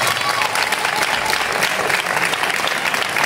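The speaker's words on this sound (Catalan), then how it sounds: "Molt bé, i tant, aquest aplaudiment." Dense, loud applause from an audience at a Tarragona casting event for La Cucafera's princess and knight, continuous close clapping with no breaks and a faint crowd murmur beneath.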